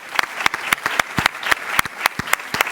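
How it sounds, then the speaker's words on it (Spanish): Sustained applause from an audience at a conference panel on Ibero-American capitals, steady dense clapping with sharp irregular peaks throughout and no voices over it. "hay un aplauso cerrado en este momento"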